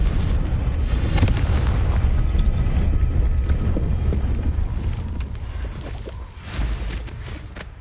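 A Confringo blast spell from Hogwarts Legacy, a loud, dense booming explosion rumble that fills the opening seconds, then fades slightly before a second swell near the end.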